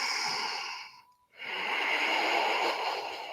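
Audible yogic breathing drawn through the back of the throat, mostly through the nose: a long, close, rushing exhale, a brief pause, then another airy breath swelling steadily.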